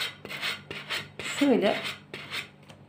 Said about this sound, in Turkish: Bu kenarda kalan kağıtları da şöyle zımparayla arkadaşlar aşağıya doğru